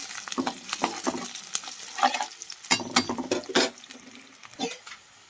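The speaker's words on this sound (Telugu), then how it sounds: "ఉల్లిపాయలు అయితే బాగా ఫ్రై అవుతున్నాయి కదా" Sliced onions and green chillies fry in a pan, a continuous crackling sizzle broken by frequent scraping and stirring strokes, close and moderately quiet.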